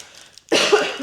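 A single harsh cough bursts out after a brief quiet moment, close and loud, trailing off over about half a second, during a card pack opening.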